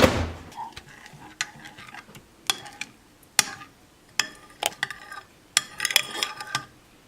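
A utensil clinks and scrapes against a bowl while stirring microwaved food, a series of irregular sharp knocks, close by, with short pauses between strokes.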